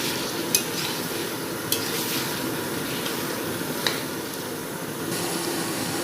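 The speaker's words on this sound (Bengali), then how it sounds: "এই মাংস কষানো চলছে জলটা শুকনো অবধি চলবে" Chicken meat being stir-fried and cooked down until its water dries out, a steady close sizzle with a few sharp scrapes of the spoon against the pan.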